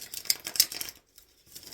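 Tarot cards being shuffled by hand, a quick run of crisp papery riffles and flicks that stops briefly and then picks up again softly, close and alone with no talking.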